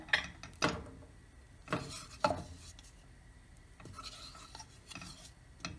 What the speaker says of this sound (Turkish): Tereyağımızı eriyene kadar karıştıracağız